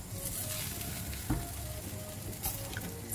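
Chicken wings fry in a pan on low heat, a soft continuous sizzle with a few light clicks of a utensil stirring or turning them.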